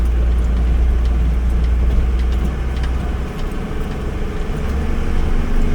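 An overlander 4x4 lorry's engine rumbles steadily as it drives down a steep hill, a loud, continuous low drone with no talking.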